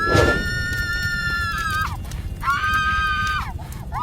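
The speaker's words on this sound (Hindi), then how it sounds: "वह जोर जोर से चीखने लगी" A high, sustained scream rings out twice, each cry long and wavering, with a breathy burst at the start and a steady rumble underneath.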